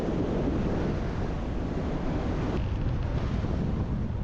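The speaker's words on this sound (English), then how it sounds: "the wind has picked up a bit" Wind roars steadily against the microphone during a paragliding flight near Karlík, Czechia, a loud, unbroken broadband rush with no voices.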